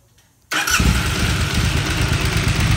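Near silence, then a KTM 990 Adventure motorcycle engine with a throttle and stalling fault abruptly catches and roars to life, settling into a loud, steady running rumble.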